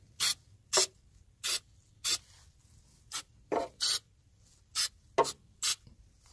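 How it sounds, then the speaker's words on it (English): Short bursts from an aerosol can of battery terminal protector, about ten quick sprays in an irregular rhythm, close up with quiet pauses between them. "the last thing I do is just spray a little bit of terminal protector"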